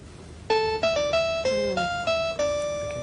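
A synthesized harpsichord from a computer music system plays a brief melodic phrase of plucked notes with sharp attacks and quick decay, clear and solo.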